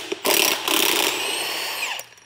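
A power tool, likely an impact gun, whirs loudly and close for about two seconds while taking a nut off a transfer case on an off-road Mercedes AMG, with a brief spin-up and steady buzzing before it stops.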